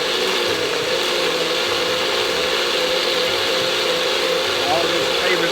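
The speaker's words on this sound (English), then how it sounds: "Now I'm using the NutriBullet, so if you have a food processor or a blender, that's even better" A NutriBullet blender purees tomatoes for Mexican chicken tortilla soup, a loud continuous grinding whir that holds steady throughout at close range.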